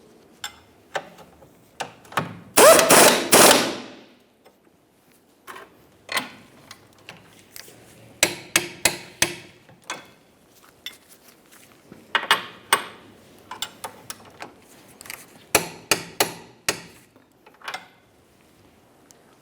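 Bolts on a 2012-2018 Nissan Altima rear forward lower control arm get tightened with a ratchet, bursts of rapid metallic clicking in separate runs with pauses, close and fairly loud, no speech.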